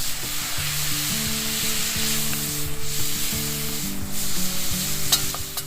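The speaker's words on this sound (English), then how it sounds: "we're gonna put that bell pepper in there. Let this saute a little. Get flavors going in that cast iron" Bell pepper sautéing in a cast iron pan over a campfire outdoors, a steady close crackling sizzle with soft stirring scrapes, unbroken and free of talk.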